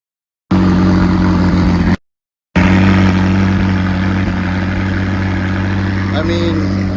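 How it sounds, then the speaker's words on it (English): A stock McLaren sports car engine fires up loudly, cuts out briefly, then restarts and settles into a steady, droning idle close by. "So if I were to start the car"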